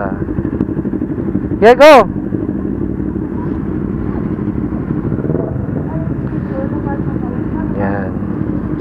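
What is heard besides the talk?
Kawasaki Z6R and N650 motorcycles riding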